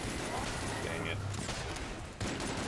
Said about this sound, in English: I went with the Plague Pistol because I just wanted something that would fire quickly.